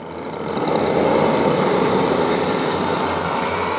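Junior racing cars sit on the grid with engines running before the start, a steady, loud, high-pitched drone that builds over the first second and then holds, close and continuous.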